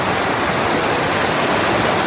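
Water pours down into a small pool at Misfat, Oman, a loud, dense, unbroken rushing close by.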